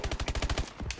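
Rapid automatic gunfire in the video game Call of Duty: Advanced Warfare, a loud burst of about eight evenly spaced shots, then a short pause and a couple of quieter trailing shots.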